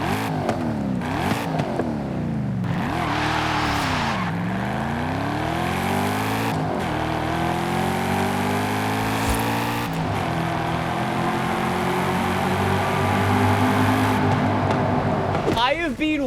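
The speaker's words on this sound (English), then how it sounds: "We've got nearly 500 horsepower out of the big V8, 5-liter V8 in this thing." A Ford Mustang's big 5-liter V8 of nearly 500 horsepower, driven in Forza Horizon 5, revs up and down through repeated gear sweeps and then settles into a sustained loud drone as a voice talks over it.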